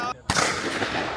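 Shotgun blast at an outdoor clay shooting range: one loud, sharp report cracks out after a brief hush, followed by a ringing, rolling decay that carries on through the rest of the clip.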